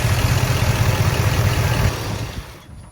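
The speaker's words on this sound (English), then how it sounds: "Now I'm gonna fire the engine up, let it run for a few" A Duramax 6.6 L L5P diesel in a 2020 2500HD pickup idles with a steady low rumble, loud and close, and settles slightly quieter near the end before cutting away.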